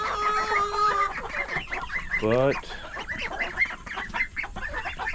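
Backyard chickens, including Brahma and Silkie hens, cluck and chatter continuously at close range, with one louder drawn-out squawk partway through and a brief spoken word.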